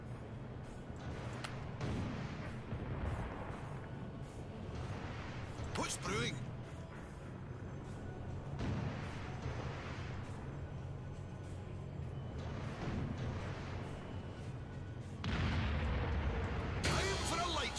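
Ironclad warship cannons firing in the strategy video game Divinity: Dragon Commander, heavy booming blasts repeating through the scene under a spoken voice and battle noise.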